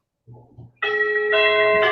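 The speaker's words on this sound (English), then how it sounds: "Oh, sorry, that's my bell." A doorbell rings indoors with a clear two-tone chime. A bright first note is followed by a second ringing tone, loud and close, with a faint low hum underneath.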